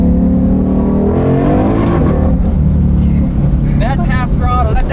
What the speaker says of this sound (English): That's not even half, it's like a quarter throttle, and the thing kicks, man.